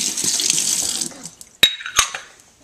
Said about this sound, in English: So put in the coffee setting again so some water runs off and cleans the metal part down there.